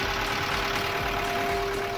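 A Škoda Felicia Laurin & Klement engine running just after starting, a steady continuous idle drone with an even tone, close and loud throughout with no talking.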